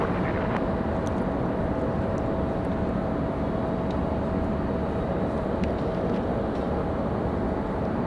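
A Southwest Airlines jet on its takeoff roll from runway 23 left at RDU, a loud, steady broadband engine roar with a thin whine running throughout, heard from the airport side.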